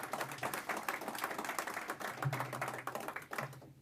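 Audience clapping at a civic business forum, scattered rapid hand claps of moderate loudness continuing steadily for a few seconds before tapering off at the end.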